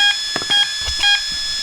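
A Turnigy TrackStar brushless ESC beeps on power-up, playing a short series of clear electronic tones in quick succession, close and distinct with no talking.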